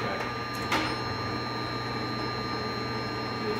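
A fully rebuilt Hardinge HLV-H-EM toolroom lathe in excellent condition runs a threading cut, giving a steady mechanical hum with a thin high whine and a brief knock near the start.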